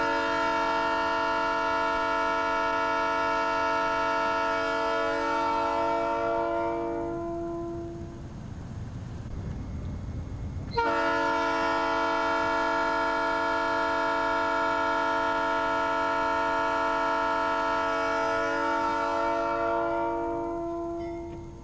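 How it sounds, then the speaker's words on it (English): A train locomotive approaching a railway crossing at an accident site sounds its horn in two long, loud, steady blasts with a brief gap between them, over the rumble of the moving engine. "This footage concerns sound tests conducted at an accident site as an engine approaches the crossing."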